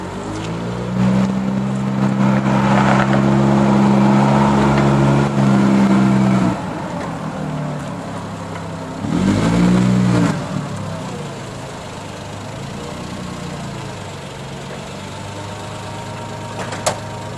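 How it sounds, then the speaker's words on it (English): A one-owner Nissan 8k pneumatic-tire forklift with a 4.2-liter inline six-cylinder engine idles steadily nearby, revving up in two strong bursts with a humming, pitch-shifting drone before settling back to a smooth idle. "great running forklift"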